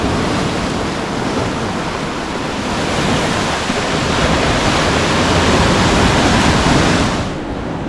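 King tide surf pounds the shore at College Cove in Trinidad, California, a loud, continuous roar of crashing and rushing water close by, steady throughout with no voices.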